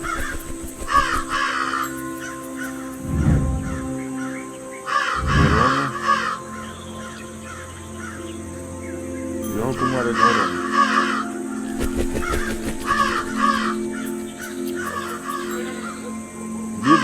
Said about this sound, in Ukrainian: Погонять ворон.